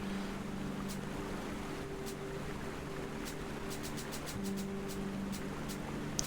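A waterfall in the video game Taiji gives a faint, steady wash of falling water, broadband and continuous, with a few light ticking game sounds and no talking.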